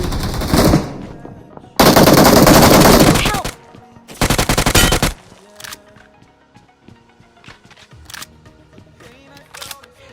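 Automatic rifle fire in the mobile battle royale game BGMI bursts loudly in three long sustained volleys, then gives way to scattered single shots and softer game sounds.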